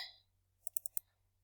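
A computer mouse clicks four times in quick succession on a taskbar icon, crisp and close, with a soft hiss behind it and no talking.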